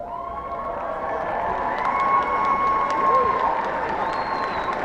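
A large commencement ceremony audience claps steadily in a broad, continuous wash of applause, with scattered cheers and whoops rising over it.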